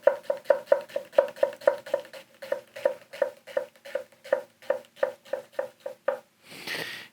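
A Tosaichi santoku knife chops through an onion on a board in a fast, even run of about twenty crisp close taps, then a short rustle at the end, with no voices.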